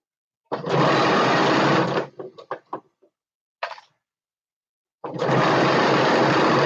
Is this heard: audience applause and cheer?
no